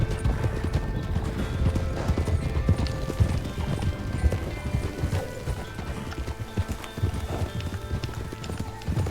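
Steady clip-clop of horse hooves trotting at an even rhythm in the video game Red Dead Redemption, with a brief whinny, set against a continuous background hum.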